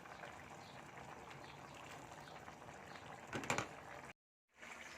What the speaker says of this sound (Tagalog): Kumukulo-kulo ng aking sarsyadong galunggong.